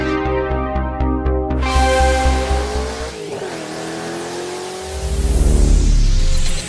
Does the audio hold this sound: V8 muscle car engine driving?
yes